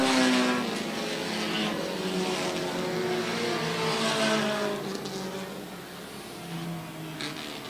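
Race cars circle a short track, engines droning loudly at a steady distance with shifting revving pitch as the pack passes, a continuous roar that eases slightly toward the end.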